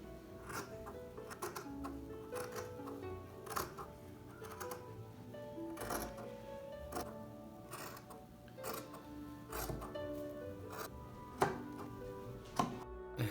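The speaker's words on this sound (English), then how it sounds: "Then I proceeded to cut out the bodice front and back pieces and the sleeves." Scissors cutting bodice and sleeve pieces for an Edwardian-style dress from fabric, repeated close crisp snips in a loose rhythm over a faint steady background, quiet and intimate.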